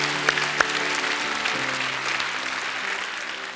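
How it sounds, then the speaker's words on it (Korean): Applause from a congregation at a Christian healing service, a broad, even wash of clapping held at steady loudness for several seconds, with a low sustained tone underneath. "우리 하나님께 감사와 영광의 박수 올려드리기를 원합니다."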